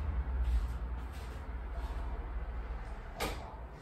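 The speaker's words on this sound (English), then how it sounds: "Let me close the sliding door." A sliding door is pulled shut in a new home, a soft rolling rumble ending in a sharp thud near the close, set against a steady low background hum.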